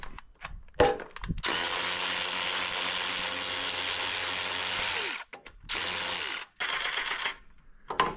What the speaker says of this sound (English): I'm going to go ahead and get all these retaining bolts off of here.